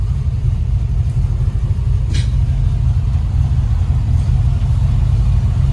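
A 1972 Chevrolet Nova with a big block V8 idles through its dual exhaust, a constant deep, loud burble that stays close and unbroken for several seconds, with no voices.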